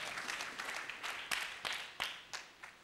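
Scattered applause from a French-speaking church congregation, a few sharp separate claps standing out over a softer wash of hand clapping, moderately near and fairly quiet.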